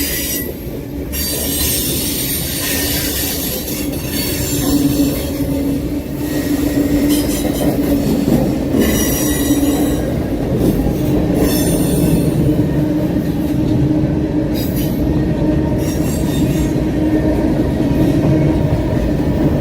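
A train rolls past on the rails in Henry County, Georgia, its wheels squealing loudly and steadily for the whole stretch, with a faint clickety-clack of the railcars beneath the continuous metallic screech.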